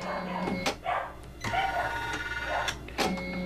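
An embroidery machine stitches a design in its sew sequence, a close mechanical whirring with repeated rising pulses and short bursts, running on its own.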